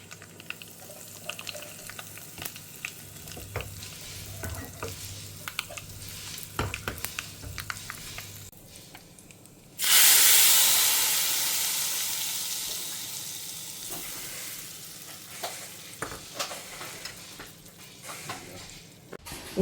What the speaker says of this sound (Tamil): இதுக்கு தாளித்து கொட்டிட்டேன்னா எனக்கு அரைச்சி விட்ட புளிக்கூட்டு